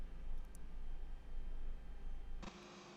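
Airbus A320 engines idling in the X-Plane 11 flight simulator, a steady low rumble with a broadband hiss that cuts off abruptly near the end, leaving a quieter background.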